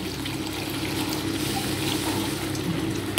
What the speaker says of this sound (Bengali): এবার আমি অল্প জল ঢেলে দেব